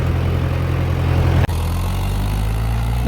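A Mahindra 575 tractor engine is held at high throttle nearby, its throttle not opening fully; the loud, steady diesel drone dips for an instant midway, then carries on.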